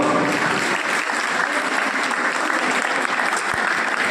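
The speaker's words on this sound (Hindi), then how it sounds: "इसके लिए तो कम से कम तालियां बजाओ।" A crowd applauds loudly and steadily for several seconds at a Vishwakarma Jayanti honour ceremony, dense continuous clapping close to the microphone.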